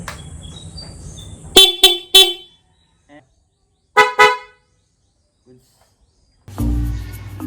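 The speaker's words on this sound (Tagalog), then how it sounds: "Installing dual contact horn. Stock horn." Two short bursts of the stock horn on a Yamaha XSR 155 motorcycle, then two more after a pause, loud and close, with a brief engine rumble at the start and end.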